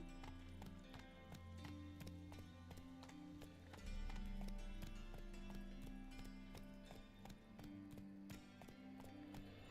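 A horse, Roach, gallops in The Witcher 3 video game with steady rhythmic clip-clop hoofbeats throughout, close and clear over a constant low game background hum, with a brief neigh-like swell partway through.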